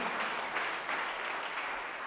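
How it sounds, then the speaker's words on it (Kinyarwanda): A church congregation applauding during a sermon, dense continuous clapping from many people, moderately loud and even throughout, with no speech over it. "Komera Imana amashyi mu izina rya Yesu."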